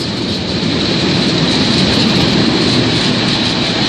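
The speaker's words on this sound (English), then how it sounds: "There's the HST just went onto our left." An HST passenger train rushes past at Severn Tunnel Junction, a loud, close, continuous roar of wheels and engine filling the whole stretch with no pause.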